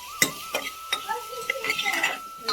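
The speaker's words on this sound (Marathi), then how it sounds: "कांदा भाजताला त्यात टोमॅटो टाकतो" Onion and tomato being fried and stirred in a home kitchen pan, with a series of sharp spatula clacks and scrapes against the metal over a soft sizzle, close and fairly loud, no talk.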